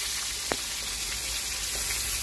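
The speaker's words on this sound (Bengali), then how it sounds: "এই দেখো মাছ ভাজা হচ্ছে, ভাজা হয়ে গেছে।" Koi fish frying in a clay pot, a steady broad hiss and sizzle of hot oil that runs unbroken throughout, close and fairly quiet, with one brief tap near the start and no voices.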